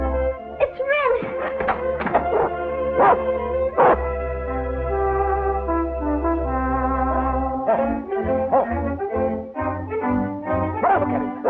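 A dog in a 1947 Rin Tin Tin film barks and whines in a rising, pleading pattern over orchestral film score, with no talking over it.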